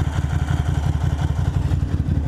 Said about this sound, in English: Bike's making some noises there.